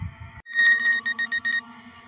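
Electronic beeping from an SJRC F22S RC car: a sustained tone followed by a rapid series of short, loud, high beeps in a steady rhythm, close by.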